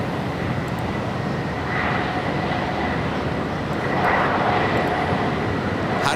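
A jet airplane on runway 24 left at Los Angeles LAX airport gives off a steady, fairly distant broadband roar that swells slightly a couple of times without pause.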